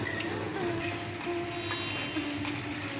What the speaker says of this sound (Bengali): একদমই উল্টে পাল্টে হালকা করে ভেজে নিতে হবে